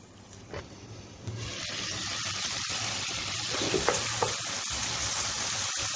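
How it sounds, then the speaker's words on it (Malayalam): Tomato sautéing in a pan for a Kerala dish, a steady soft sizzle and frying crackle with occasional stirring scrapes, close and continuous with no talk. "ഇനി ഇതിൽ ഒരു തക്കാളി ഇട്ട് കൊടുക്കാം. തക്കാളി നമുക്കൊന്ന് നന്നായിട്ട് വാട്ടിയെടുക്കാം."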